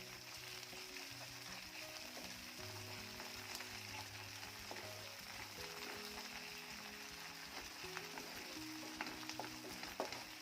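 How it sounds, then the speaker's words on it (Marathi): Ginger-garlic paste sautés in a pan for okra bhaji, giving a soft, steady sizzle with occasional stirring scrapes while faint background music plays underneath. "यामध्ये अर्धा चमचा आल्या लसूण पेस्ट घालायची आहे पेस्ट देखील छान परतून घ्यायची आहे"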